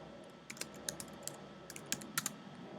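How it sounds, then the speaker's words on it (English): Comment typed on a computer keyboard, a quick irregular series of faint, close key clicks over a couple of seconds with light background hum. "I can either type something back"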